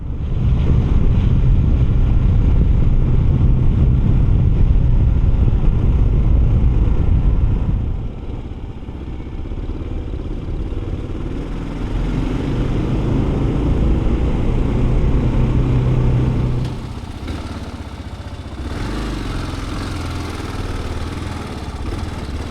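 A Kawasaki KLR650 motorcycle engine drones while riding up a twisty mountain road, loud and steady with wind noise, easing off and changing pitch in places as the throttle shifts.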